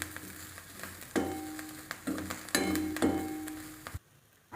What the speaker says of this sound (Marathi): आता आपल्या 2 मिनिटं मिरच्या छान परतल्यात